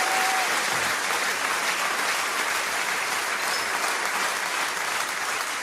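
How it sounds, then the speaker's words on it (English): Loud, sustained applause from a crowd, steady clapping throughout with no pauses. "round of applause for y'all"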